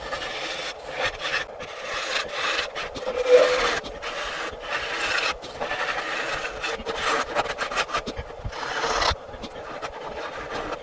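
Hand tools scrape and rasp at wood, hollowing out the inside of a fairy house piece, in irregular bursts of rubbing and gouging strokes at close range with brief pauses, no speech.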